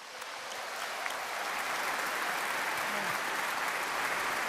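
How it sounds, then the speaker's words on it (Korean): An audience in a large lecture hall breaks into applause, a dense, steady wash of clapping that swells and holds loud throughout, with no voices over it. "여러분, 저분들을 위해서 박수."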